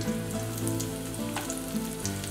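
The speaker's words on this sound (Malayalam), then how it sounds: "ഇഞ്ചി, മാങ്ങ ഇത് ഇത്രയിട്ട് വഴറ്റുക" Green chilli, garlic, ginger and mango sauté in hot oil after mustard seeds and curry leaves for a Kerala sardine curry, giving a steady close sizzle with soft crackles throughout and no talking.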